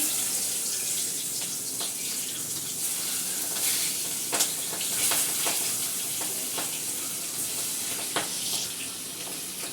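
Stuffed okra frying in hot oil gives a steady, dense sizzle with scattered pops and crackles, plus occasional clinks and scraping as it is stirred in the pan.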